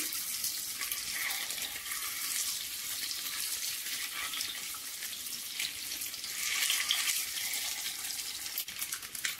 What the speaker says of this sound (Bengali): ডিম ভাজা হয়ে গিয়েছে